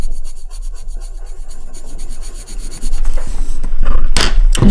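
Décotime colored pencils scratch and rasp across paper in quick back-and-forth coloring strokes, close and steady, growing louder and harsher toward the end.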